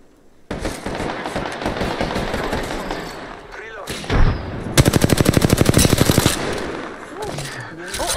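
Enemy gunfire in Apex Legends, played as Caustic: sustained loud automatic fire and explosive crackle, ending in a dense rapid burst of evenly spaced shots.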